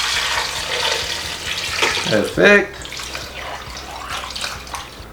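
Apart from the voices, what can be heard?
tap water filling a pot of beetroot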